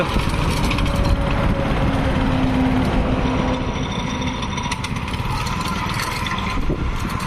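A 7 hp Indian Agro chain cultivator engine runs continuously, a loud buzzing mechanical drone with rattling texture and a faint whine, steady throughout with no voices.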